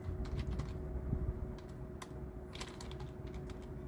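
Quick, light clicks of typing on a computer keyboard patter steadily and close by, with short pauses between bursts of keystrokes and no talk.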